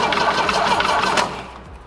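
A 47-year-old car's engine cranks as someone tries to start it, giving a loud, rough, fluttering churn that drops off sharply after about a second, and no voices are heard.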